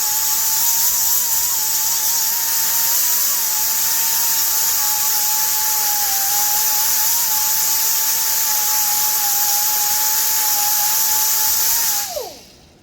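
An angle grinder takes material off a face, a loud, steady high-pitched whine with a wavering tone held close and alone for about twelve seconds before it winds down and stops at the end.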